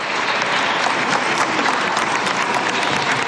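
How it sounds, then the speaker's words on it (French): Dense, sustained applause from a crowd greeting Gisèle Pelicot as she arrives at court, loud and continuous throughout without a break. "Elle est arrivée une fois de plus, ce matin, sous les applaudissements."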